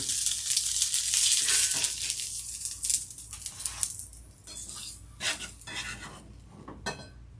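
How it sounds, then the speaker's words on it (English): Onions caramelizing in a pan for pierogi give a steady broad sizzle that fades over several seconds, with scattered scrapes and clinks of a utensil against the pan close by. "I got my caramelized onions going over here"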